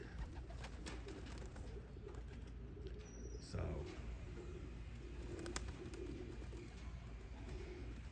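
Soft cooing from young pigeons in the background under quiet outdoor ambience, with a brief spoken word partway through.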